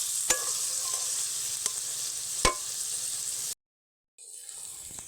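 Hilsa fish head cooking with taro greens in a pan gives a steady close sizzle broken by a few sharp utensil taps, then cuts to silence for a moment before a quieter frying hiss resumes.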